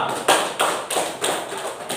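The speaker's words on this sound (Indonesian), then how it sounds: "kasih tepuk tangan dulu untuk kelompok 2" Students in an Indonesian primary-teacher practice-teaching class clap for a group that just presented, a rhythmic round of unison claps in evenly spaced bursts, close and moderately loud.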